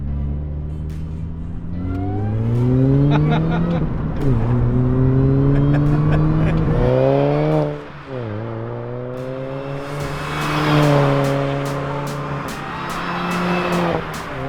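Loud engine and exhaust note from a Mini Cooper fitted with a 17% pulley, under way, rising through gears with brief drops between shifts, steady and close throughout.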